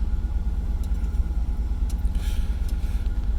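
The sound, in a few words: third gen Camaro engine idling down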